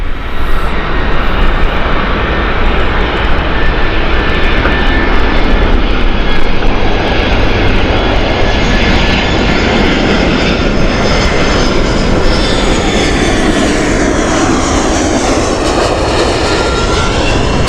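An EasyJet airliner at Gatwick Airport roars loudly and steadily as it passes, its broadband jet rumble filling the whole stretch with a slowly shifting whine and no voices.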